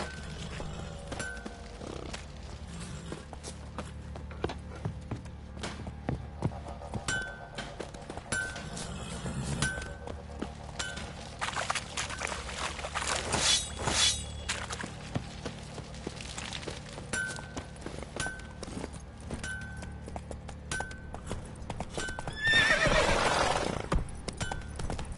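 A horse in The Witcher 3 gallops with rhythmic hoofbeats and lets out a loud neigh near the end, mixed with game music and occasional clinks and thuds.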